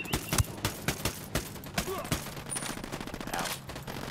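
Rapid gunfire rattles in a video game as someone shoots at bombs: sharp repeated shots and short bursts, loud and close, spaced unevenly over a few seconds.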